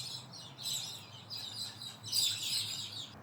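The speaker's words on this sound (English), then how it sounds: "Sorry about the birds, guys." Small birds chirp and tweet in the background in quick, bright bursts that come and go, fairly faint and steady over a low hum, with no talk.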